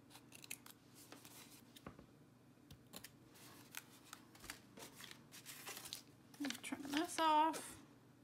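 Scissors trim paper around a postcard in a run of faint, close snips and paper rustles, a louder crisp cut near the end, with a quiet voice speaking throughout.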